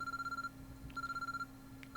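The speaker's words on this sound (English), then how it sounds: "An urgent-sounding ringing noise suddenly rang throughout the room" An urgent ringtone rings through a room in the visual novel Chaos Head Noah, a faint electronic trill pulsing rapidly in two bursts of about half a second each, separated by a brief gap, with no speech.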